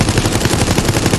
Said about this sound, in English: Use the machine gun skill card to defeat the survivor.